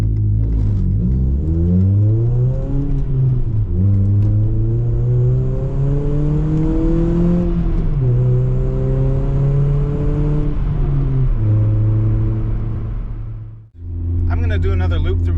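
A 2005 Ford Focus with a universal cold air intake revs hard while driving, its engine note climbing repeatedly and dropping at each upshift, loud and steady from inside the car before briefly cutting off near the end.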